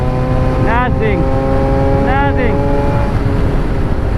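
A Yamaha R6 sport motorcycle engine drones steadily while twice revving up sharply in rising whines to about 6,000 rpm, under constant rumble and wind.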